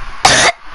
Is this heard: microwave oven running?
no